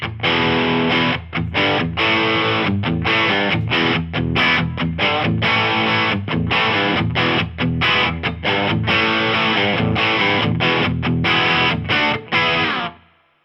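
An Epiphone 1956 Les Paul Standard Goldtop electric guitar plays through heavy distortion, with chugging chords and quick palm-muted stops in a driving rhythm, loud and up front with no voices, ringing out briefly at the end.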